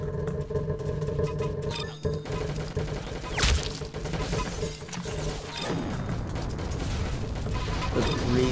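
A green fire weapon firing in the Roblox game Arsenal, heard as a dense, continuous burst of mechanical clattering and crackling shots over steady game noise, with a sharp whooshing blast midway.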